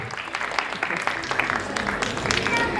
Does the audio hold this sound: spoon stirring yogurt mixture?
no